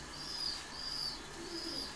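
Caged pigeons in a cage-housing area coo softly in a low, gentle murmur, faint and somewhat distant over steady background hiss, with no one speaking.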